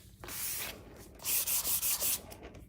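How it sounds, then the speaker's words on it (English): Broadband rasping strokes of sanding over a waxed, chalk-painted cabinet, a long first pass followed by five quick rhythmic strokes, close up and fairly quiet. "I'm sanding over the wax."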